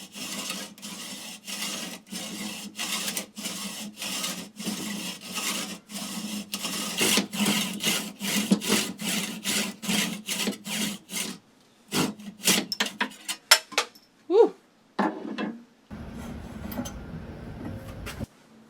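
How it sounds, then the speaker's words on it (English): A carbon fiber bicycle fork steer tube is cut with a hand saw in steady, even back-and-forth strokes, close and rasping, slowing to a few separate strokes before stopping, followed by a brief rustle. "Alright, so now the steer tube is cut, nice and clean."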